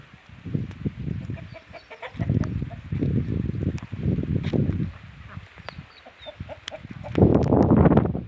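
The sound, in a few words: ducks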